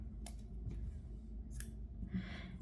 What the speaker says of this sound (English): We will cut the yarn